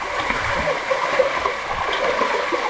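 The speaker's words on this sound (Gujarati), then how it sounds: "જો અમારા જનકભાઈ જો ખવડાવવા પાણી એટલું ઉડાડશે ને." Water at a dam splashes and churns continuously as fish are fed, a steady close wash of splatter with no clear voices over it.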